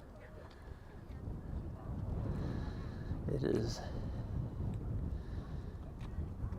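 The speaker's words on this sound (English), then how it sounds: "very windy out here and cold." Cold, strong wind blows outdoors in Yellowstone, rumbling steadily against the microphone in low, buffeting gusts, while a person briefly starts to speak.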